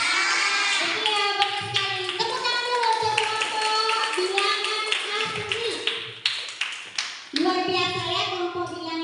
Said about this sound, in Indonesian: Tepuk tangan dulu untuk kelompok bilangan asli.